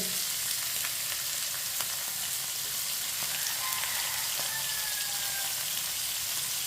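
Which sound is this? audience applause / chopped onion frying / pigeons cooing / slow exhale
chopped onion frying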